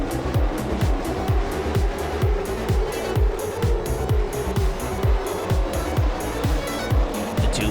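Late model race cars racing at Kingsport Speedway, a loud sustained roar of several engines with rapid rising and falling pitch sweeps as cars pass close by.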